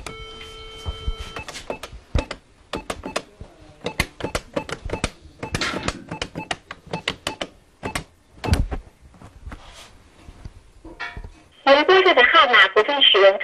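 A telephone is dialed to an out-of-service number: a steady tone, then a rapid run of short key beeps and clicks, ending in a harsh buzzing signal, with a voice talking over parts of it.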